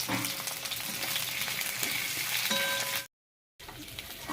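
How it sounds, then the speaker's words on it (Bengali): Potatoes fry in hot oil in a wok, a steady close sizzle with a light clink near the end, then a short cut to silence before the frying resumes. "এবার আলুগুলো আমি ভেজে নেব।"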